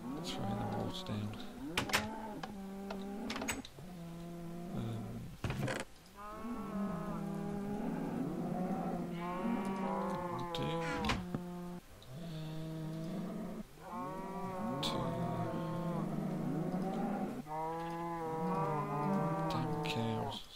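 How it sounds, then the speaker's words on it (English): Minecraft cows mooing: a crowd of many blocky game cows lowing over and over, overlapping deep moans in near-continuous succession, with occasional sharp clicks and thumps between the calls. "Sorry about all the noise of the cows."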